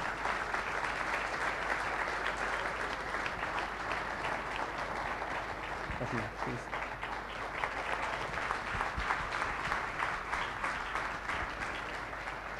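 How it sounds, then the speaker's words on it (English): Steady, dense applause from an audience welcoming actress Manisha Koirala onto the stage at a public dialogue with Sadhguru, filling the whole span at an even level with no break. "big round of applause for Ms."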